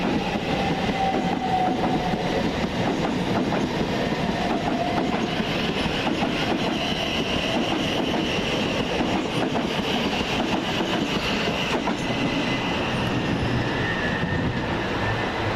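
Class 377 electric multiple units pull into Gatwick Airport station, a steady, continuous rumble of wheels and rail clatter at close range holding for the whole stretch, with no voices over it.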